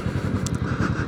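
A Royal Enfield Classic 500 single-cylinder engine runs with a loud, close, lumpy thumping beat, a steady low pulse throughout a short burst.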